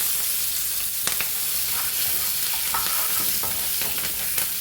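Cashews, curry leaves, ginger and green chillies fry in a hot pan for Kerala-style upma, giving a steady close sizzle with scattered crackles and pops, with no voices.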